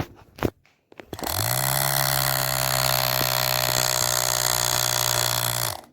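A small DC motor starts after a couple of clicks and runs with a steady, close electric whine at a constant pitch for several seconds, then cuts off.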